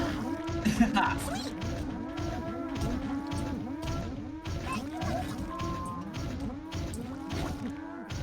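Flying cows in a South Park video game keep mooing in a dense, overlapping chorus, steady and loud throughout with no break.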